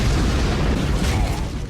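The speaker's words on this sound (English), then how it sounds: "nope, here comes a bomb" Bomb detonating in the shooter game Project Snowblind, a loud, close, rumbling boom with heavy low-end roar sustained across the whole moment.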